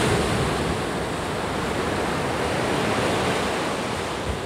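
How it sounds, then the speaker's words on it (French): Ocean surf crashing steadily onto the beach at Dominical, Costa Rica, a loud, unbroken wash of breaking waves with wind noise buffeting the microphone. "affronter la puissance des vagues"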